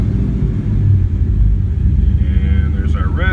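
A car with an LS-swapped V8 engine runs with a deep, steady rumble at idle, loud and close throughout, ending with a brief rising whine.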